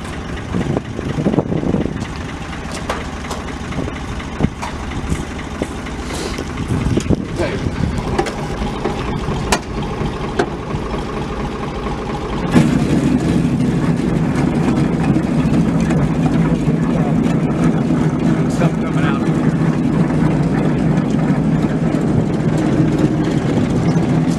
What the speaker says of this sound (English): We'll turn it on. This auger in back will go sideways both directions.